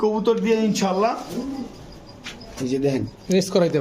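Pigeons coo in soft, throaty rolling phrases close by, repeating several times, with a few brief clicks between calls.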